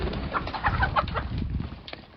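Chickens and a rooster cluck and murmur nearby in a coop, short soft calls overlapping in an uneven stream.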